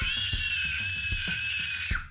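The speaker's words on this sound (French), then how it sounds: "La jeune femme hurla de nouveau" A woman's sustained, high-pitched scream in a French audio drama, loud and continuous for about two seconds over faint low thumps, then cutting off abruptly.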